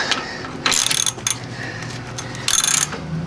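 A ratchet clicks in short bursts while tightening a spark plug on a 1956 VW Beetle. Several quick rattling pulls are separated by brief pauses, close and clear with no talk.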